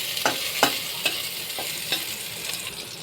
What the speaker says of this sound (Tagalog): Ihulog ang bawang. Hintay mangitim bago sunod ang sibuyas.